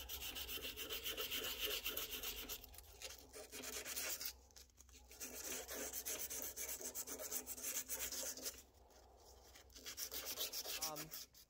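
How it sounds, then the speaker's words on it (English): Continuous close rubbing and sanding of a turned wooden pen, rhythmic back-and-forth scratching with brief pauses, fairly quiet and with no talking. "we're going to see the sanding process."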